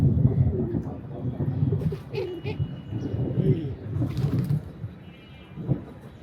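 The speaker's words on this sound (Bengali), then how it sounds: "এর চেয়েও অনেক পুরনো কবুতর আমার কাছে আছে" Pigeons coo softly in low, throaty bursts close by, with several birds overlapping and some wing flutters, and a person talks over them.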